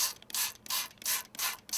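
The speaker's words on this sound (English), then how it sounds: "I'm just gonna spray this paper up" Pet stain cleaner is sprayed onto paper from a pump bottle in a kitchen chemistry demonstration: four quick hissing bursts in an even rhythm, close and clear, with short pauses between them.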